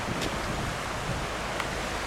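Strong gusty wind of around 45 km/h in the Nusfjord fishing village in Norway roars as a dense, steady broadband rush buffeting the microphone throughout, with no voices.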